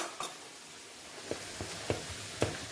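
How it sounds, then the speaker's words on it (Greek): Tomato paste being stirred in a pan with a spoon, giving a few soft, spaced scraping clicks over a faint low sizzle, close and quiet with no talking. "Το ανακατεύω και μετά θα σβήσω με το κόκκινο κρασί."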